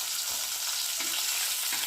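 Rohu fish pieces frying hard in hot oil, a steady dense crackling sizzle with a few soft stirring scrapes, close and continuous, no voices.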